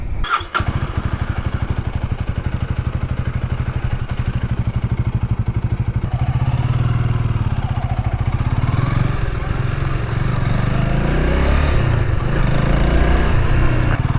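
Honda Rebel 300 motorcycle idling with a rapid, even engine pulse, then revving and pulling away into a steady riding drone with wind noise, loud and close throughout with no speech.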